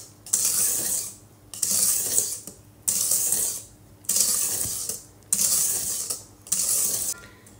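A wire whisk works oil into a cake mixture inside a bag, making about six loud, scratchy swishing bursts at a steady rhythm with short gaps between them and no talking.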